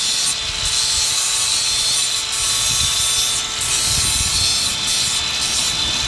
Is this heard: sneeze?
no